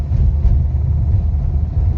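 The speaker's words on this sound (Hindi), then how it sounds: "ये इंजेक्टर ही पूरा आवाज़ मार रहा है कड़कड़ करके," Nissan Terrano diesel engine running rough with a misfire from a weak number 3 injector, giving a steady, loud, close low rumble with an uneven knocking clatter and no talk.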